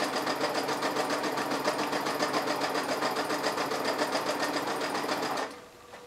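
A sewing machine stitches satin trim onto tulle for a skirt, running in a steady, loud, continuous whir with a fine rapid rhythm before cutting off just before the end.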